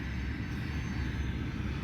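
Steady low rumble of aircraft at Scottsdale Regional Airport, a continuous engine drone heard at moderate distance with no talk over it.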